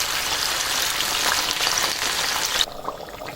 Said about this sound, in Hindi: अच्छा जी, ऑयल यहाँ पे गर्म हो गया तो इसमें मैं डालूंगी ये सारी भिंडियाँ थोड़ी करके डालूंगी